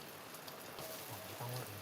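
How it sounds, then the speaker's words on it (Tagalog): Heavy rain falls steadily on surfaces outdoors in a mountain area, a quiet continuous hiss with a few faint low sounds near the end. "lakas ang ulan ngayon dito sa amin"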